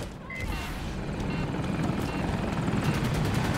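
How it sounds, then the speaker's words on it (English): Battlefield 2042 video game helicopter, a Hokum attack chopper, roaring steadily with a dense broadband rotor and engine wash that stays loud and close throughout, with no speech over it. "Oh, chopper on us."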